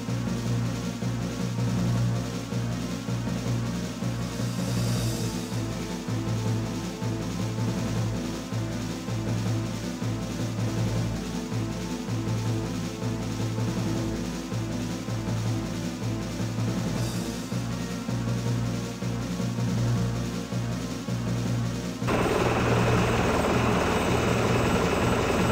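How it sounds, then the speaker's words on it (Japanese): An aircraft engine in a Dreamcast video game runs in a continuous droning whir with a rhythmic rotor-like throb. The loudness stays steady for the full length, and the tone shifts slightly brighter near the end. "さあ急ぎ、エンジンに火を入れるぞ。"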